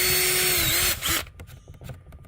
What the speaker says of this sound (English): Drilling holes is very important.